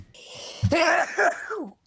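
A single sharp sneeze bursts out close to the microphone, followed by a drawn-out voiced exhale that trails off into quiet.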